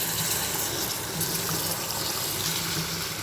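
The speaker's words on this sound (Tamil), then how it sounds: "இப்போ இந்த தொக்கு கொஞ்சம் வேகிறதுக்காக தண்ணி சேர்த்துக்கலாம்." Water pours steadily into a pan of prawn thokku as it cooks, a continuous close gushing splash that runs unbroken for a few seconds with no talk.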